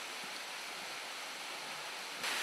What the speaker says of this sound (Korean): 바위 위로 흘러내리는 폭포니까 계곡으로 흘러내리는 게 아니고 바위 위로 흘러내리죠.